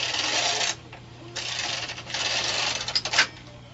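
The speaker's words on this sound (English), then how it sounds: "let's knit 2 more rows and do that one more time." A BOND knitting machine carriage is pushed across the bed to knit rows, making sustained rasping, clattering passes with brief pauses between strokes, close and fairly loud.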